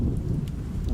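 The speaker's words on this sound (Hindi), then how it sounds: "ये बिजली काहे कड़क रही है बे?" Thunder rumbles low and heavy through steady rain, a dense near roar that fills the short stretch with no voices.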